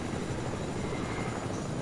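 Helicopter in the video game Fortnite, a loud, continuous rotor and engine drone with a steady, churning texture throughout, heard alone without talk.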